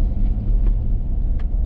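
A semi truck rolls out with a deep, continuous engine rumble heard from close by, steady and low with faint clicks scattered through it, and no voices.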